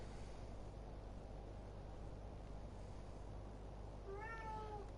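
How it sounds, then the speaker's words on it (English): A cat gives a single brief meow near the end, faint beneath a loud steady low hum and broadband noise. "Annoying bloody cat."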